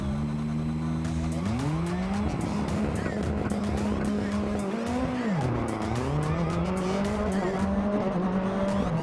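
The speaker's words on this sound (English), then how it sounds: "Let's jump on board now with Cabot Bigham for a lap." Onboard a rallycross race car lapping a course that mixes dirt and tarmac: a loud, close engine rises and falls through gear changes, with tire squeal and gritty skidding on the loose surface, continuous throughout.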